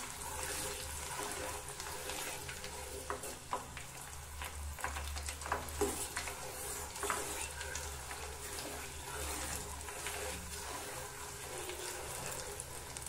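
Homemade hair oil simmers quietly in a pan, a faint bubbling hiss broken by soft clinks and scrapes as it is stirred now and then, low and close.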